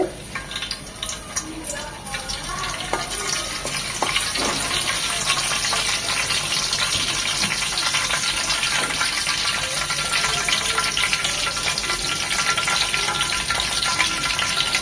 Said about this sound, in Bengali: তেলটা গরম হয়ে এসেছে দিয়ে দিচ্ছি দু টুকরো দারচিনি আর একটা তেজপাতা